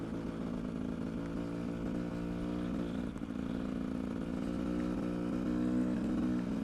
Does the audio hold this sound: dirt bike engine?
yes